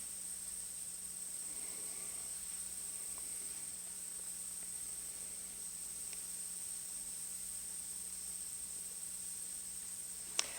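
Crickets chirp in a steady, high, continuous trill at a distance, faint and unbroken over a quiet background hum, with no voices.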